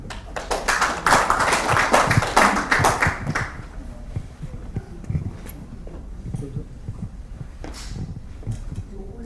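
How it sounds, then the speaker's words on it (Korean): A conference audience breaks into applause at an academic society's opening ceremony, several seconds of dense clapping that fades out, leaving a few scattered claps and quiet room noise. "박수 부탁드리겠습니다"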